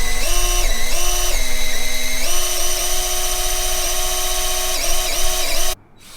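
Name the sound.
drill spinning boat engine oil pump to prime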